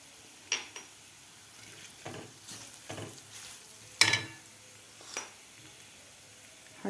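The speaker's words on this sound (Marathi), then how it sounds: "हे सुद्धा आपल्याला 1 मिनिटभर परतून घ्यायचं आहे वाटण, मिरची आणि लसूणचं" Garlic and green chili paste cooks in a pan, with a faint low sizzle beneath several distinct spoon scrapes and a sharp metallic clink midway.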